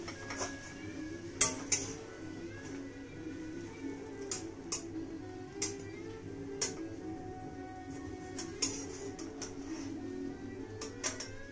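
A knife cutting through a fried vegetarian Mughlai paratha on a plate, a run of sharp clicks and taps of metal against the plate at an uneven pace over a low steady hum, close and fairly quiet.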